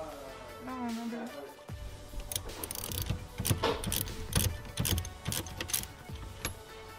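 A ratchet wrench loosens a bolt on a Nissan Skyline steering wheel install, with rapid metallic clicking bursts and clanks up close, preceded by brief talk.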